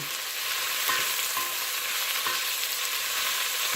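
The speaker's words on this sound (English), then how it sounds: "I'm going to saute the meat first, just to get a little bit of brown on it." Chicken sausage meat sautés in a pot with a continuous, close sizzle and faint stirring clicks throughout, and nobody speaks.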